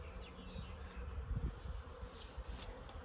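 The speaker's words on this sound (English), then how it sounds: "There's a lot of bees in there." A swarm of bees buzzes in a neighbor's tree outdoors, a continuous low droning hum with a few louder passes close by, heard alone without talk.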